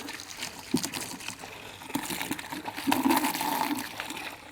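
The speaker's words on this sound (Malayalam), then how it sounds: "പൈപ്പ് തുറക്കണ്ടേ, അപ്പോഴല്ല വെള്ളം വരിക." Water runs from a freshly opened pipe, a moderate splashing trickle with uneven bursts that grows fuller toward the end, with no talking.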